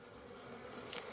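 Bees humming on hive frames during a beehive split, a faint, steady, continuous buzz of many insects with a brief slightly louder pass near the end and no talking.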